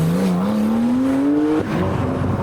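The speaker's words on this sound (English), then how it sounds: "I want to follow the Chaser so we can hear it and watch it as it leaves." A 500hp Toyota Chaser pulls away from a car meet, its engine note climbing steadily in one long loud rev before a sharp shift drops the pitch and it keeps pulling.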